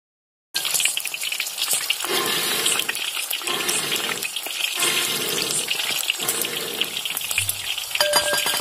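Green chilies, broken or slit open, sizzle and crackle steadily in hot oil for pakoras, a close, continuous frying hiss with slight surges, no voices.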